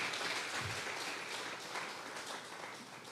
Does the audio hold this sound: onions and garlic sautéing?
no